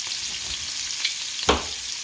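Scallops sear in a pan with garlic brandy butter, giving a soft, steady sizzle with a couple of small pops and ticks close by.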